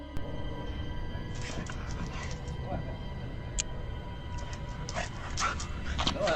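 A dog named Shiloh in a garden gives soft whimpers and small yips over outdoor background noise, while a voice talks intermittently.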